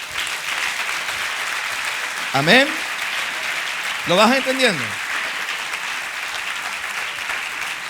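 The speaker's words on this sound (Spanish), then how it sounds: "Aplauda al Señor." Church congregation applauds in a continuous, dense wash of clapping that holds steady throughout, while a voice speaks briefly twice over it.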